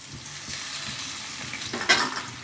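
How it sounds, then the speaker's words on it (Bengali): Ground poppy seed, mustard and green chilli paste hits a hot pan and sizzles steadily, with a louder, brighter burst of frying about two seconds in; stirring sounds sit underneath and no one talks. "এই পোস্ত সর্ষে আর কাঁচা লঙ্কা বেটে রেখেছি, এটাকে আমি ঢেলে দিচ্ছি এর মধ্যে"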